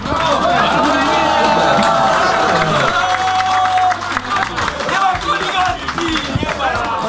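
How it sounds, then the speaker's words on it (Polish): Loud audience applause for third place at a slalom award ceremony in Wisła, sustained clapping and cheering from a crowd with voices and amplified sound beneath. "Gorące brawa dla trzeciego miejsca."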